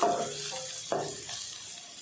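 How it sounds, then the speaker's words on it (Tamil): Sliced onions and dried red chillies sauté in a pan for a spinach poriyal, producing a continuous close sizzle with a couple of scraping stirs and a soft clatter. "வெங்காயம் காஞ்ச மிளகாய் ரெண்டும் நல்லா வதங்கட்டும்"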